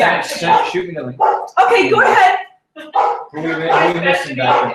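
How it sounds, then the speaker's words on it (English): A dog barks intermittently in the background of a group call while people keep talking over it, the barks partly masked by the steady conversation. "Sorry about the dog."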